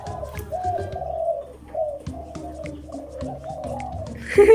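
Young spotted dove chick cooing in a series of soft, low, wavering calls repeated steadily, fairly close, with a brief louder sound at the end.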